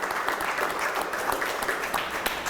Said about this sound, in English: So let's have a round of applause for the city of Yonkers.